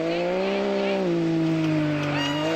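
A misfiring Subaru rally car engine at the NTT Motor Group Tzaneen Rally 2021, a steady strained harmonic drone that sags slightly and wavers, continuous and fairly loud with crowd or commentary noise beneath.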